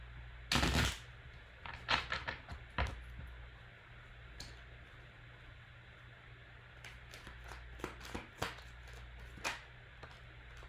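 Tarot cards are shuffled in irregular bursts of crisp riffling and slapping, with a sharp flurry early on, scattered clicks in the middle and another cluster of quick card snaps near the end, all close and fairly soft.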